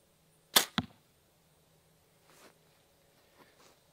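An arrow tipped with a quiet hunting broadhead is shot from a bow: one sharp release snap followed by a quick second thud, then faint distant rustles in an otherwise quiet outdoor setting.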